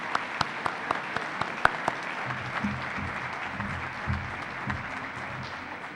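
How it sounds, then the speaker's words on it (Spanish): Audience applause fills a constitutional law congress hall in tribute, steady broadband clapping with a few sharper claps standing out and low murmurs underneath. "Entonces, les pido que me acompañen en un aplauso."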